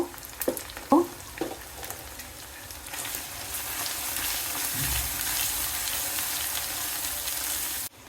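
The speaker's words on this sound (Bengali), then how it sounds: "মশলাটা ভালো করে নেড়ে মিশিয়ে নিব" Spice paste of garlic, cumin and ginger sizzles and spatters steadily in a pan, with a few scraping stir strokes near the start, loud and close with no talk.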